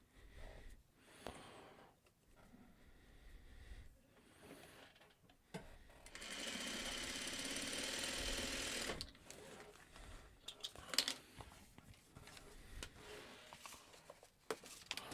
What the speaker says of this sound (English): Just random pieces being sewn together onto a piece of paper.